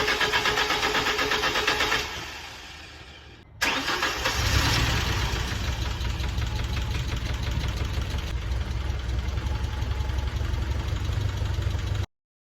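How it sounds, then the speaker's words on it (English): A 1991 Ford Escort GT cranks after more than twenty years idle, the starter whirring briefly before the engine catches and settles into a steady, close idle that runs uninterrupted to the end. "So now it was time to start it up for the first time in 20 plus years."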